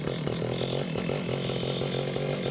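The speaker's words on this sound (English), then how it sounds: "So I'm going to turn this on. I'm going to put my knee on it like this, and then I'm going to just pull straight up. It started." A gas-powered cut-off saw engine catches after a pull start and keeps running with a steady, buzzing two-stroke drone, loud and close, with no one talking over it.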